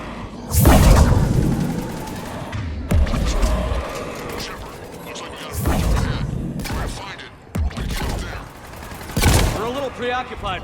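Sustained gunfire in a Mass Effect 3 firefight, with loud bursts and volleys recurring every few seconds under a steady din of combat noise.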